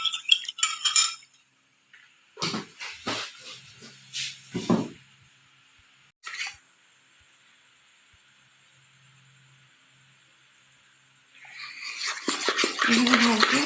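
Salt, sugar and cumin powder are stirred together for dahi vada, giving close clinks and scrapes of a spoon against a bowl in short bursts separated by quiet gaps, with a faint hiss and louder sounds near the end.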